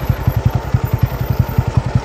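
TVS Ronin 225 motorcycle riding over a rough road, its engine thumping in a steady, rapid low pulse, close and continuous with no talk.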